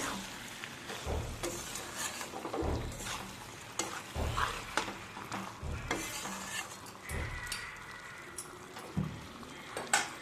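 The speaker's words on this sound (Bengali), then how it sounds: "দিয়ে ওটা আমি ভালো করে মিশিয়ে নেব।" A spoon scrapes and stirs cooked spice paste with a teaspoon of sugar in a pan for a Bengali potol chingri dish, a steady soft sizzle under repeated clanks against the metal.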